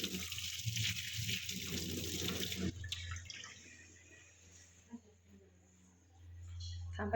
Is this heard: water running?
yes